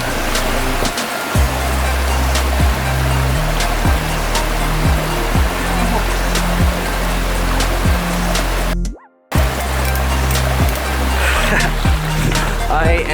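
Water runs steadily in a forest stream beneath a hammock strung between trees, with a waterfall nearby. The rush is loud, broad and continuous, broken once by a brief dropout.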